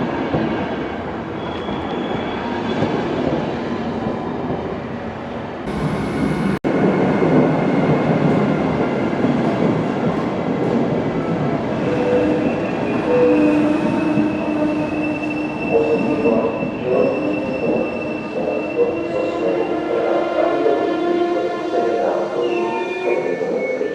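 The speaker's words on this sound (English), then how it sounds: "I think this is our train." Passenger train on the Bratislava to Budapest line pulling into the station, a steady loud rumble of wheels on rails with rising metallic squeals and tonal whines from the braking cars, continuous throughout.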